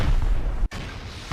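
In the game Rust, a rocket explosion blasts base walls: a loud, dense boom with a brief cutout midway, then a sustained rumbling roar.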